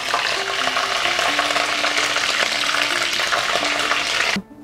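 Food pops and sizzles steadily in a hot pan during home cooking of a Bangladeshi-style dish, a dense crackling hiss with faint music-like tones underneath, cutting off abruptly near the end.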